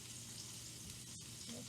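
Flour-coated hamburger patties fry in a pan with a steady, moderately loud sizzle, and a person talks over it.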